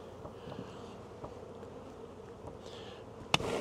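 Honeybees drone continuously on a hive frame during a colony and mite inspection, a close, steady buzz with a few faint taps and a sharp knock near the end.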